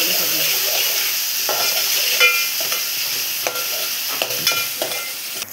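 Finely chopped tomatoes and spices fry in a pan with a steady sizzle, broken by several scraping clinks of a spoon stirring the mixture.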